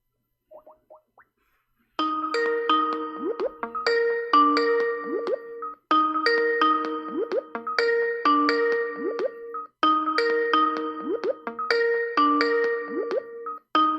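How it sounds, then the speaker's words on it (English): A Skype incoming call ringtone repeats its bright, bouncy melodic chime in three loud, steady cycles, preceded by a few faint short tones. "This is Skype thing."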